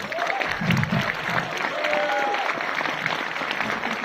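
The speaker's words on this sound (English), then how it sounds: "One big, huge round of applause." An audience at a film trailer launch applauds steadily, a dense wash of clapping with a few crowd voices and faint tones over it.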